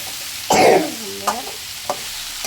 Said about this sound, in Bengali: নাড়িয়ে দিতে হবে, যতক্ষণ সবগুলোর মধ্যে ভালো করে মশলাটা লেগে যায়